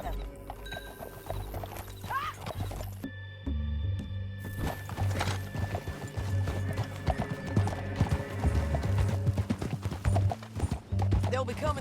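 A horse gallops in Red Dead Redemption 2, with rapid clip-clop hoofbeats, a neigh, and loud rhythmic pounding throughout, under talking voices.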